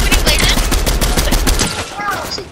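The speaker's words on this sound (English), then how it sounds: "I just sniped someone." Gunfire in the Fortnite battle royale game, a dense rapid burst of loud shots with a sniper rifle crack, followed by fading echoes, close and sharp, with faint voices underneath.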